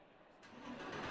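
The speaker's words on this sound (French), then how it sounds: "on va écouter le joli moteur" A race car engine in Assetto Corsa Competizione starts quiet, then swells into a steady, rising mid-pitched drone that grows louder over about a second, heard alone.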